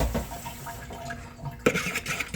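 Water runs from a kitchen tap while something is rinsed during pretzel dough prep, a fairly quiet steady splash with a brief louder clatter partway through.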